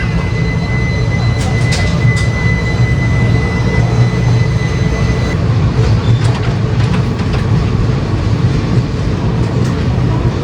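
Dhanbad special passenger train with blue East Central Railway coaches rumbling past, a loud, steady, continuous roar of wheels and coaches close by, with no speech over it.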